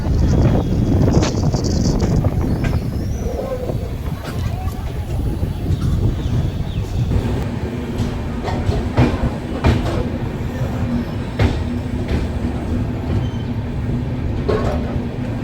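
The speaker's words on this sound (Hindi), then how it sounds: "इसी के साथ अपनी ट्रेन अराइव कर रही है राजकोट जंक्शन पे।" The 22946 Saurashtra Mail train pulls into Rajkot Junction with a steady rumble and clattering wheels on the rails, close and loud, under wind buffeting. Someone talks in Hindi over the sound.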